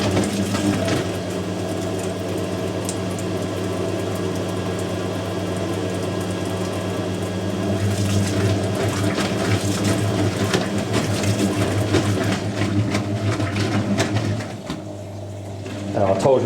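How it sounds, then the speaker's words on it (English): A Zanussi Jetsystem Excel 1250 top loader runs a spin rinse, a steady loud mechanical whir that builds partway through and drops off near the end, with a person talking over it. "I told you we do a spin rinse."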